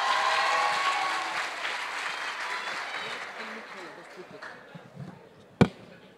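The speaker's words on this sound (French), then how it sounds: "applaudissez haut et fort Amin Rouane" Audience applause at a school debate final fades gradually over several seconds, broad and moderately distant, ending with a few scattered sounds and one sharp knock.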